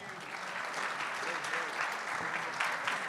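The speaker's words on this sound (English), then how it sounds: "Please give him a big round of applause." A conference audience at a blockchain event's opening ceremony in Istanbul breaks into dense, sustained applause filling the hall for the full stretch, with voices mixed into the clapping.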